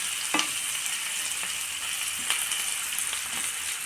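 Paneer cubes and cashews fry on a low flame in a pan, giving a steady, fairly quiet sizzle with a few soft clinks of stirring along the way, and no one speaks.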